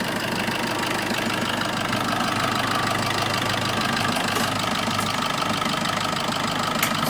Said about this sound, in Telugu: ఇంజన్ బీటింగ్ కూడా స్మూత్గా నీట్గా ఉంది